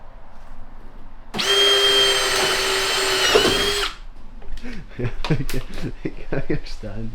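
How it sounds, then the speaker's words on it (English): A power drill whirs loudly for a few seconds, winding up and running steadily before stopping while drilling two holes in a garage, followed by someone talking nearby. "Just drill 2 holes."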